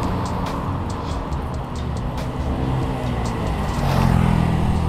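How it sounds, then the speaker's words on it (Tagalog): Vehicles roll by on the road near a women's dorm, a continuous broad traffic rumble with passing engines and faint clicks, growing slightly louder toward the end. "maingay kasi mga dumadaan ng mga sasakyan"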